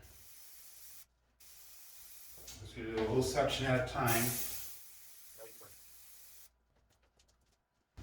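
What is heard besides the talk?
spray adhesive being sprayed from can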